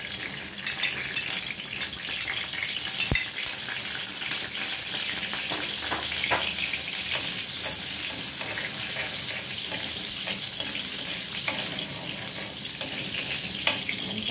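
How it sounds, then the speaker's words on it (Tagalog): Garlic sautéing in a pan for a shrimp and vegetable stir fry gives a steady, close sizzle and crackle that runs throughout, with occasional clicks of stirring. "Kailangan natin isote yung ating garlic."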